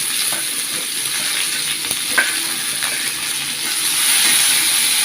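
Five-spice seeds and chopped onion sizzle in hot oil for a fried tomato mash dish, a loud continuous hiss with small stirring scrapes and a brief clink, swelling slightly near the end.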